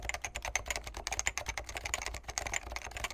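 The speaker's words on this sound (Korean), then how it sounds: "도각도각이라는 표현이 제일 잘 어울리는 키보드입니다." Brisk, continuous typing on a Topre FC660C electrostatic capacitive keyboard, close up, with rapid muted keystrokes in an uneven rhythm and no voices.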